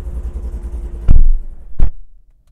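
A modified car fitted with a Lopi cam and an upgraded exhaust rumbles along the road, with a low steady drone broken by two sharp louder bursts before it drops away to near silence.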